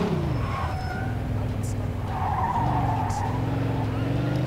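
A car in the video game Mafia 2 drives and skids, engine droning steadily while a tire squeal rises and bends across the clip, loud and close, with a few faint clicks mixed in.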